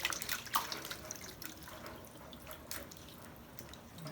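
Water running and dripping in a kitchen sink as raw beef is washed under the tap, a steady faint splashing with a few louder drips near the start.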